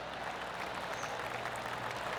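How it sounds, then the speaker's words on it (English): Soft scattered clapping from a golf gallery in the PGA Tour 2K23 video game, a steady patter of polite applause that stays faint and even throughout. "Oh, golf clap"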